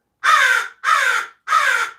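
Pet birds calling indoors, three loud harsh caw-like squawks in a steady rhythm, each lasting about half a second, close by with nothing else heard.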